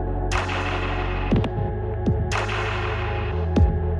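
A Kurtz Ersa Alpha 140 3D printer hums with a steady low mechanical drone, broken by a few short sharp clicks and whirs of moving parts, close and even.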